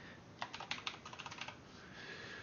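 Quiet typing on a computer keyboard: a quick burst of about a dozen light key clicks over roughly a second, close but soft, over steady background hiss.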